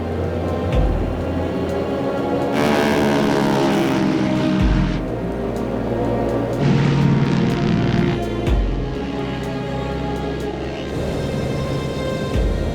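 C-46 piston engines roar during takeoff, a loud sustained drone that swells and shifts in bursts as power builds, with no speech over it.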